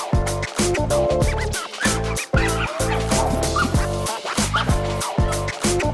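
A dog barks repeatedly in rapid, loud bursts close by, with short gaps between volleys and no talking.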